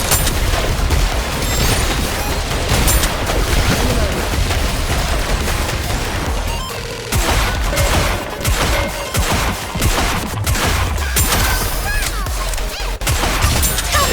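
Dense, loud bursts of rapid gunfire with crashing impacts and booms from a Goddess of Victory: Nikke battle, pouring out almost continuously across the whole stretch with only brief dips.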